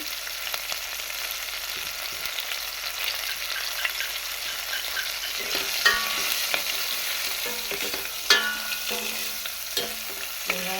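Garlic and spices with turmeric sautéing in a pan for a village-style brinjal and peanut kara kuzhambu, a steady oily sizzle with scraping stir strokes and occasional sharper pops, moderately close, with no talking.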